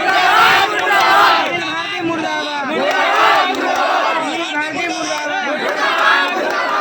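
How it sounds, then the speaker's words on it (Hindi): A loud protest crowd chants slogans in unison outdoors, rhythmic rising and falling voices from many people that stay dense and close throughout. "इसलिए हम लोग नारा लगा रहे हैं, सुनील भारती मुर्दाबाद"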